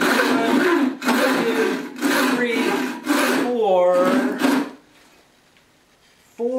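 Rhythmic back-and-forth strokes of a handmade frame saw cutting into wood, about five close, loud strokes at roughly one per second under a voice, then stopping.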